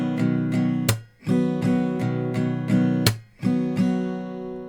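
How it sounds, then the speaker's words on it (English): An acoustic guitar is strummed in a steady down-strum pattern, the fourth down replaced by a sharp hand clap; two crisp claps cut through the ringing chords, played close and alone with no talking. "you can replace that 4th down with a clap instead"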